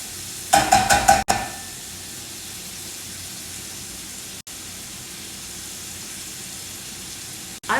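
Bacon frying in a pan during a Sunday meal-prep session gives a steady hiss of sizzling fat that runs through the whole stretch, with a short burst of louder crackle and clatter near the start.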